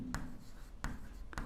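Chalk or a marker strikes a board during an English grammar lesson, with three short, crisp taps spaced evenly, faint and alone.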